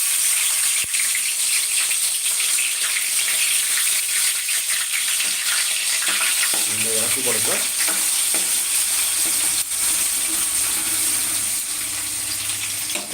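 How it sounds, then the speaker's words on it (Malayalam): Mustard seeds crackle and spices fry in hot oil for a toddy-shop style chicken curry, a steady close sizzle with scattered pops and some stirring, and a brief voice partway through. "കടുക് പൊട്ടിയ സൗണ്ട് കേട്ടത് കടുക് പൊട്ടുന്നുണ്ട്"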